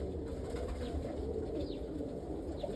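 Roller pigeons cooing inside a breeding loft, soft low coos repeating over a constant background hum, fairly close and unhurried.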